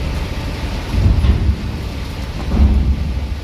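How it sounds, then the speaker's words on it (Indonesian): Heavy rain pours steadily while low thunder rumbles swell twice, a dense loud wash of rain with deep rolling booms and no voices. "Ditemani rintik-rintik hujan yang sangat banter."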